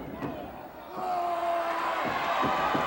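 A capacity wrestling crowd at a World Wrestling Federation event roars and cheers in a sustained wash of arena noise, swelling louder partway through, while a commentator talks over it.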